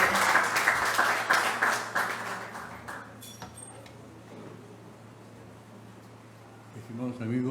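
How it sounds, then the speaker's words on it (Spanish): Audience applause at a Spanish-language book presentation ceremony, a burst of clapping loudest at first that fades after a few seconds into quiet room noise, with a voice starting at the end. "un fuerte aplauso al maestro Eligio Moisés Coronado"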